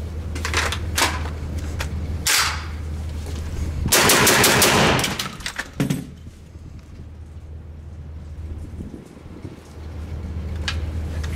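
Rapid semi-automatic fire from a Kriss rifle at a keynote demonstration, loud cracking shots in quick bursts with a dense volley in the middle and sharp echoing reports throughout.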